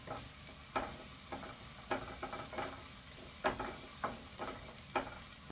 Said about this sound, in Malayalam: എന്നിട്ട് നന്നായിട്ട് ഇളക്കി കൊടുക്കാം.